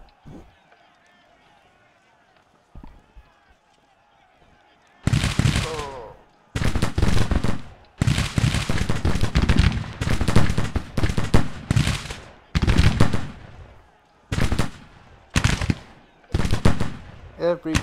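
Loud bursts of rapid gunfire from shooting in a video game arrive in repeated volleys after a quieter opening, with some speech mixed in.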